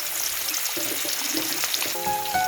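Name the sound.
rohu fish frying in oil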